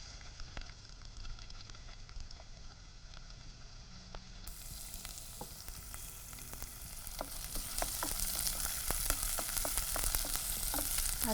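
Steady close sizzling and crackling of finely chopped onion frying in a hot pan, growing a bit louder and brighter partway through.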